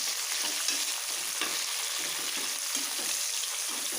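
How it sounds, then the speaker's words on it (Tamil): Sliced big onions fry in a pan for coriander rice, giving a loud continuous sizzle, with the scrape of stirring coming through close up. "போட்டு நல்லா வெங்காயம் வணங்கணும்."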